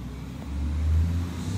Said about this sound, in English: Garbage day, trucks going by.